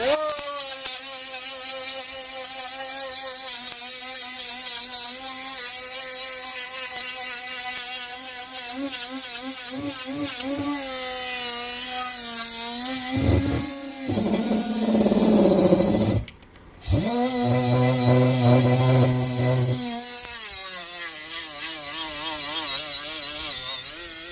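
Milwaukee M12 right angle die grinder spinning a 3-inch 50 grit disc, a loud steady high-pitched whine that shifts pitch midway, dips briefly and resumes, heard alone throughout.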